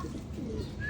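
A pigeon gives a soft, low coo close by, a brief murmuring call over a quiet background.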